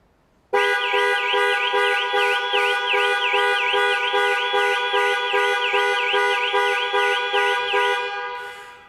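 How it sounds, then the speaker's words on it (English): A Jaguar XE panic alarm horn wails loudly and continuously, a rapid warbling tone repeating steadily for several seconds before cutting off. "Press for 3 seconds or press 3 times in 3 seconds, and the horn will sound"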